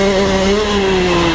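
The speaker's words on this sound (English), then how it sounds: "to be pinned simply means that you're holding the throttle wide open and you're just holding this thing at open throttle" A dirt bike engine held at wide open throttle, a loud, steady, high-pitched buzzing drone close up that holds a constant pitch for the whole short stretch, with no voices.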